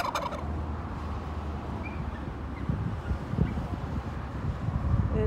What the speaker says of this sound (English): Wow, did you hear that? That was a real regular gobble.